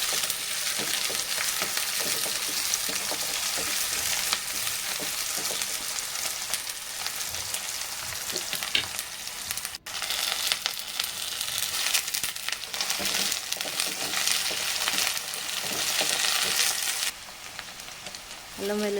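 Onion, green chillies and curry leaves crackle in hot oil as a tempering for a spiny gourd curry, a continuous close sizzle with faint stirring scrapes that drops slightly near the end.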